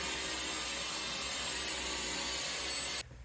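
An INSE S9 cordless vacuum cleaner sucks up debris and fluff with a steady, loud, whining motor roar that holds constant for about three seconds, then cuts off abruptly.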